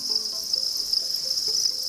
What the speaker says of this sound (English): Just tens of thousands of crickets.